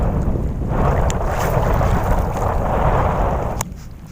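Wind buffets the microphone in a continuous low rumble, steady and fairly loud throughout, with a faint click near the end.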